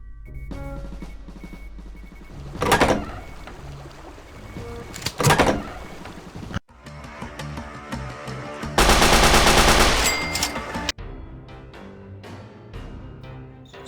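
Heavy gunfire and rapid machine-gun bursts in the shooter game Brutal Wolfenstein, loud repeated volleys with dense sustained firing stretches, separated by brief pauses and sharp single shots.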